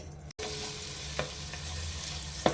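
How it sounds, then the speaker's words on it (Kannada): Chopped onions and curry leaves fry in oil for Mangalore-style chicken sukka, a close, steady sizzle with a sharp break early on and a few light stirring knocks. "ಈರುಳ್ಳಿಯನ್ನು ಒಂದು ಸ್ವಲ್ಪ ಫ್ರೈ ಮಾಡಿಕೊಳ್ಳಿ"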